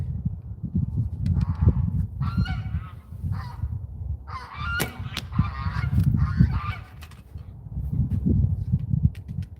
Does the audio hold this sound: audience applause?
no